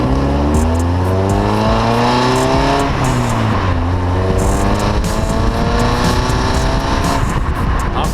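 A Mazda MX5 Miata's engine drives steadily and loud throughout, with harmonic engine tones rising through gear changes and a brief dip and recovery midway, no talk.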